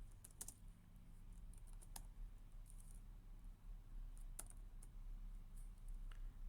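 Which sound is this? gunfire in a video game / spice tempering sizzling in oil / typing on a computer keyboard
typing on a computer keyboard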